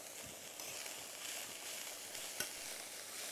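Pumpkin pieces sweating in a hot pan, a soft steady sizzle with light stirring scrapes and one sharp tap, quiet and close with no talk.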